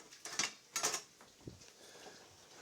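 A cooking pan is picked up and handled with a small metal drainer, giving two close, bright metallic clinks followed by a softer dull knock, then quiet.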